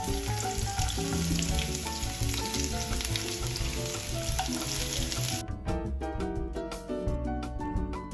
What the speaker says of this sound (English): Once the oil is hot, we are going to add some thinly sliced onions.